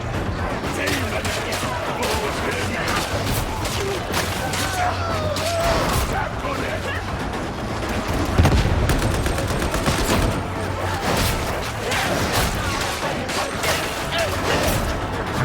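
Dense, steady video-game gunfire from a Deimos round weapon in Darktide, with rapid shots packed across the whole stretch amid game noise and a louder burst partway through, with no pauses.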